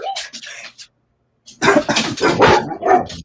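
A dog barks sharply a few times up close, then after a pause a person talks loudly over it.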